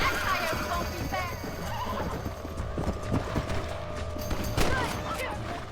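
A horse in the Western video game Red Dead Redemption whinnies while hooves clip-clop at a gallop, close and fairly steady under faint background game sounds.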